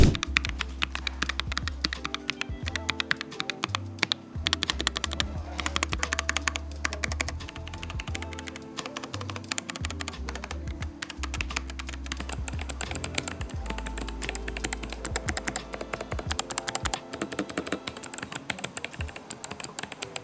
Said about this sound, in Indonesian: Gimana tes suara ngetik dari ketiga keyboard ini? Ini dia.